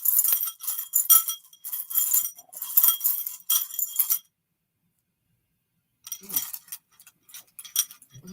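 Rune stones clinking and rattling together in a bowl during a witchy ritual: bursts of bright clattering for several seconds, a pause of silence, then more scattered clinks, close and fairly quiet.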